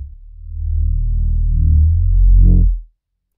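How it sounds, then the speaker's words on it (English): A Reese bass patch on a Novation Peak, made from two saw waves through a 24 dB low-pass filter, sounds as one deep, thick, slowly wobbling bass note lasting under three seconds, then stops. "So Thick Boy is just your standard Reese,"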